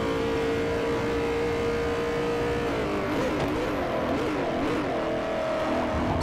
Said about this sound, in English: I'm just driving this fucking BMW